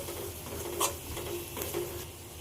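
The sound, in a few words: spice masala with turmeric being sautéed in oil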